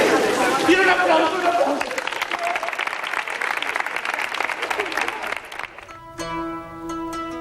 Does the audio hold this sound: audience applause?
yes